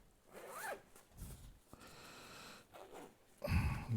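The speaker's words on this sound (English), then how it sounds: "I don't like the way these zippers stick." Sticking zippers on a bag are dragged open in several short, rasping pulls, close and fairly quiet, with no talking.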